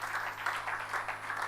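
A church congregation at a prayer meeting claps together in a dense, continuous burst of applause, steady and fairly close, with no voices standing out.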